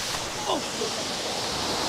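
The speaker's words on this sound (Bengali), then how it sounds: "this is the বাগবিয়ানি Jharna" Steady broadband rush of the Bagbiyani waterfall on the Napittachhara trail, a constant even roar close by with no talk over it.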